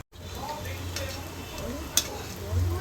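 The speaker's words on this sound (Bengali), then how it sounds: "সব কটা আমি লাল করে ভেজে নেব" Chhana kofta balls made from fresh cheese sizzle as they fry in hot white oil, with a steady low crackle. A faint utensil tick is heard near the middle.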